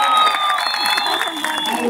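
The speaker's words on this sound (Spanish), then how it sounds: "¡Aplauso para mamá Coco!" A crowd at a live comedy contest show in Mar del Plata claps and cheers for a contestant, a dense, steady wash of applause lasting the whole moment.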